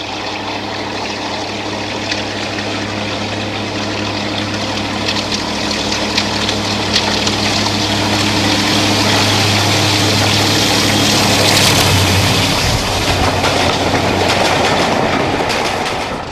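Hymek diesel locomotive D7076 labours up a steep incline, a loud sustained engine drone with a strong low hum and rising roar, joined by rail clatter as the train passes close by, no talk.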